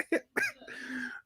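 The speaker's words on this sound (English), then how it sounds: "This shit just made me like start coughing." A short burst of harsh coughs, two or three quick hacks followed by a raspy, drawn-out wheeze, close to the listener.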